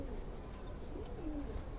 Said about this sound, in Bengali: কবুতর দুইটা